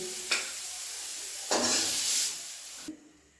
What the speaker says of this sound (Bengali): শাকগুলো ঝরঝরা হয়ে ভাজা হয়ে গেছে এবারে আমি নামিয়ে নিচ্ছি